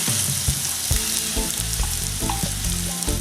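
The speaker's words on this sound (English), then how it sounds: "We're going to start off by adding our onion and garlic." Onion and garlic hitting hot oil in a saute pan over medium-high heat, a loud close crackling sizzle with stirring scrapes and clatters, no voices.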